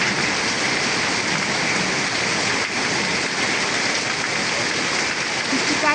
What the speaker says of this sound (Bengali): প্রচুর জোরে বৃষ্টি, প্রচুর জোরে।